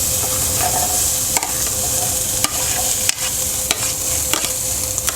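Chopped onion going into a lightly oiled pan already holding carrots and garlic, a steady loud sizzle with occasional sharp clicks of a utensil, close and with no talking.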